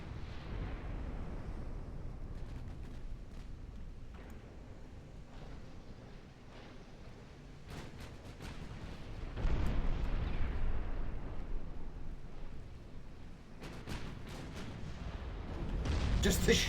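Naval battery shells booming in Ultimate Admiral: Dreadnoughts, an 1890 Russian fleet battle with big cruisers: a rumbling, continuous barrage of deep artillery blasts that swells into heavier bursts near the end.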